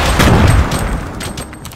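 Grenade blasts in the Fortnite video game: a loud, dense burst of explosive booms and crackling at the start that fades into a lingering rumble, with no talk.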